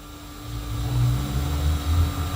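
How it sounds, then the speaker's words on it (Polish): A low electric whirring hum with slight rises and falls, steady throughout, heard close inside a quiet hybrid car with no talking: the brake pump charging, a normal sound. "to jest ładująca się e, pompa hamulcowa i to jest normalne"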